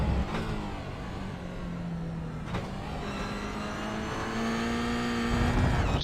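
A Toyota GR86 race car laps in a racing sim game, its engine droning loud and steady with rising pitch through gear changes and no voices over it.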